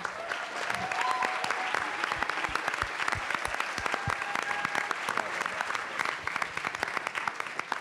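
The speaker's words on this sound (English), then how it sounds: "So please join us in a huge round of applause." Crowd applause at the MIT $100K pitch competition, a sustained wash of many people clapping with some sharper individual claps and a faint voice or cheer mixed in.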